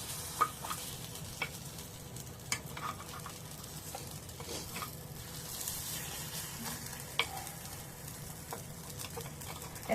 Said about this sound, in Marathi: आता पलटी करायचं एक साइड झाले आता दुसरी साइड पण होऊन द्यायची